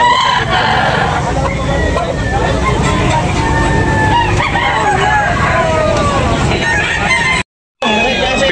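Roosters crow and chickens cluck at a busy backyard chicken market, loud and continuous over crowd noise and people talking, broken by a brief moment of silence near the end.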